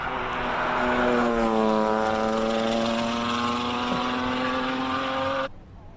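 A Noble M400 with a 3-litre six-cylinder Ford engine at a hill climb, heard as a loud, sustained engine note rising steadily in pitch as the car passes close by, then cutting off sharply.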